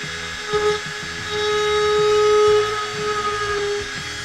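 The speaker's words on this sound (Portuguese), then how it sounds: "Fiz o primeiro furo." A small drill boring a hole in a homemade printed circuit board gives a steady high whine that rises and holds for a couple of seconds, with a faint tonal hum and light mechanical chatter beneath, close and alone.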